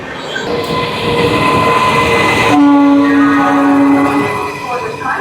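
The Doon Express from Dehradun to Howrah rumbles loudly and close through a station, its horn sounding sustained tones midway, with metallic wheel squeals layered over the steady roll.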